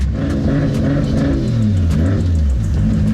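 A Nissan S15 drift car with a 1.5JZ engine revs loudly and close by while warming up, with repeated throttle blips rising and falling over a steady idle.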